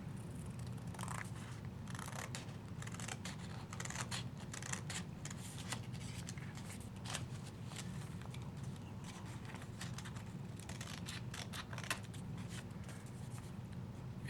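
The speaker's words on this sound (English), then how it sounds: "Now I'm going to take my scissors" Crisp, repeated snipping and rustling of scissors cutting card-making paper close by, with brief paper scrapes between cuts, steady and unhurried with no talking.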